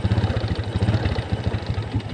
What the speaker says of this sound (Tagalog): Bago natin patakbuhin si Blokey, dapat painitin muna natin.